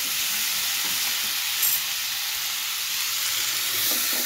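Tomato sautés in a pan on low flame for Kerala-style chicken mappas, with peppercorn powder added, making a loud, steady, hissing sizzle that runs unbroken throughout.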